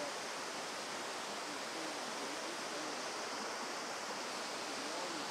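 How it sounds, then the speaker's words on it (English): Steady broadband rush of falling water at Minnehaha Falls in North Georgia, constant and fairly loud, heard from nearby with no other sounds. "there wouldn't be much water coming down the waterfall"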